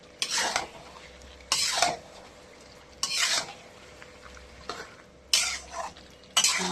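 Mutton braising in a pan while being stirred: loud, close scraping strokes of a utensil against the pan come in separated bursts every second or two, with a low sizzle filling the gaps and no talk.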